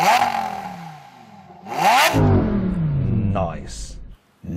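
Revving of a Lamborghini Sterrato's 5.2-litre naturally-aspirated V10, two sharp blips rising and falling close by, with a louder sustained rev that drops away into a brief quiet.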